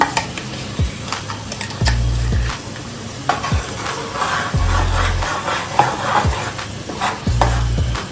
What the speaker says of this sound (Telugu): మిక్సీ పట్టిన పేస్ట్ని ఈ నూనెలో వేస్తున్నాను